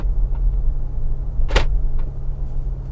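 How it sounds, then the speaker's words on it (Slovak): Central locking on a 2018 Mercedes G500 slams shut with a single sharp metallic clunk, close and loud over a low steady engine or cabin hum, with a couple of fainter clicks around it. "keď sa zamknú dvere centrálne"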